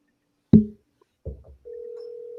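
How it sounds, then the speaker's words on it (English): A telephone call is placed on speakerphone: a sharp click, a short burst of dialing noise, then a steady tone starts and holds to the end, fairly loud with no voices over it. "Let's get Sherrod Steve on the phone."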